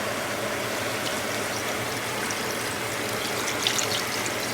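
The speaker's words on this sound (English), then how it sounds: "I'm going to proceed to cover my chicken with water." Water pours steadily over chicken in a pot to stew a Jamaican-style curry, a continuous dense rushing hiss at even loudness throughout.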